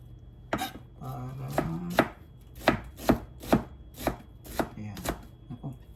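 A kitchen knife chops an onion into small pieces on a cutting board, about a dozen sharp, close thuds at an uneven, steady pace, with a brief quiet voice near the start.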